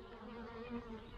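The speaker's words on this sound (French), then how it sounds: "Il y a de l'abeille." Honeybees buzzing around an open hive during oxalic acid varroa treatment after swarming, a dense continuous droning hum with wavering pitch, close and steady throughout.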